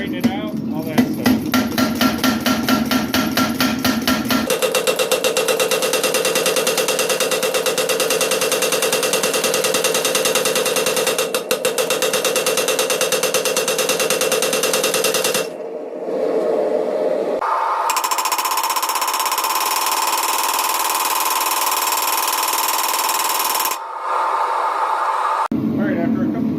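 A power hammer fitted with flat dies pounds a hot steel blank for a Japanese bunka knife, starting with a loud, fast run of rhythmic blows, then giving way to a steady mechanical drone with a short break near the end.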